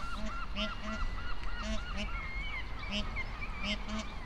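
Geese and ducks honking repeatedly in a noisy group, several calls overlapping in a steady rhythm at moderate distance outdoors near a hotel in Grange-over-Sands.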